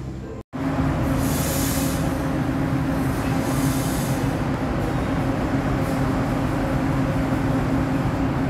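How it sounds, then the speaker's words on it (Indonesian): The Arjunanegoro passenger train in Indonesia rumbles steadily at close range with a loud continuous roar, faint metallic squeals rising above it, after a brief silence at the start. "Ini baru masuk kereta api Arjunanegoro ya."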